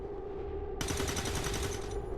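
Automatic gunfire from soldiers shooting an enemy in the XCOM 2 video game: a hum gives way to a loud, rapid burst of rattling shots lasting over a second, then tails off.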